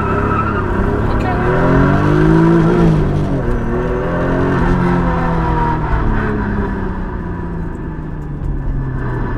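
Toyota Supra MK4 engine building turbo boost, rising revs and a sweeping tone as it accelerates hard, loud and close, with a driver talking over it.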